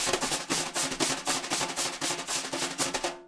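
Jazz brush strokes on a snare drum in a fast steady pattern, each swish drawn out and overlapping into a continuous sweeping texture, close and alone.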